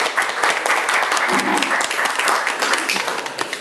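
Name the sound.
audience applause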